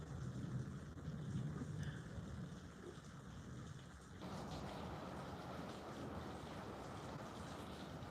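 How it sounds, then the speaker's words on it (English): Low rumbling thunder rolls under a steady hiss of rain, which grows denser and heavier partway through, heard from indoors at moderate distance. "That is thunder."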